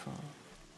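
Steady rain falling as ambience in a tabletop role-playing game session, a continuous hiss of rain on surfaces with no voices, over a brief moment.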